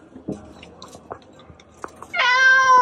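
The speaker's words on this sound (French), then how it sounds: "Qu'est-ce qui se passe, mon chat?" A cat gives one long, loud meow at the end, after a stretch of quiet rustling and small clicks.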